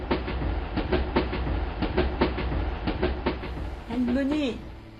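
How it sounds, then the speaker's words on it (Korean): A train runs along the rails with a steady, repeating clickety-clack of wheels over track joints, fairly loud and close, ending in a brief rising tonal sound. "기차는 하염없이 달리기 시작했습니다"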